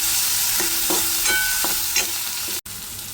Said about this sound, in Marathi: छानसं परतून घ्या।